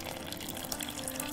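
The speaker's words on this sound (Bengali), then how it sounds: "আর দিচ্ছি জল" Water runs and splashes into a bowl of flour and mashed potato paste for jalebi batter, a brief steady close pour with no talking.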